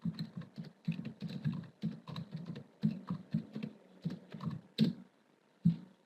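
Steady typing on a computer keyboard, close and quiet, with quick irregular key clicks and a couple of sharper taps near the end.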